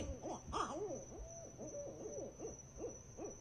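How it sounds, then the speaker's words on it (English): Barred owls hoot in a string of wavering, rising-and-falling calls, several in quick succession, moderately close in a night setting. A steady thin tone runs underneath, and no one talks. "barred owls. Listen."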